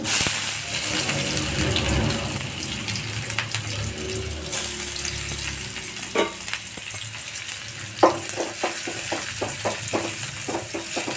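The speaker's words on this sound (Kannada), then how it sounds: "ಜೀರಿಗೆ ಉದ್ದಿನ ಬೇಳೆ ಹಾಕ್ಕೊಂಡಿನಿ" Cumin seeds and urad dal sizzle in hot tempering oil, a steady close frying hiss with a run of sharp spoon scrapes and clinks against the pan toward the end.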